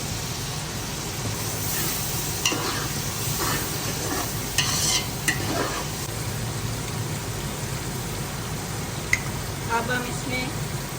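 Half a kilo of boiled chickpeas cooks and is stirred in a pan with yogurt, giving a steady close sizzle with occasional scraping stirs, while someone talks over it.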